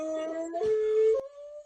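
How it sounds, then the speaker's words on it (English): A dog named Sadie lets out a drawn-out, wavering howl close by, with tonal steady stretches that bend and break into short whimpering yips before settling on one final held note, no one talking. "It's pretty surprising for Sadie to howl like that"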